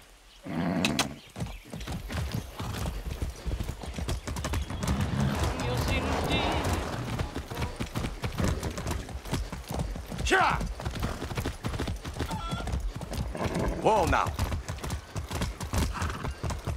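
Galloping hooves in Far Cry 6 clatter in a steady, fast rhythm, loud and close, with a horse whinnying and other game effects mixed in.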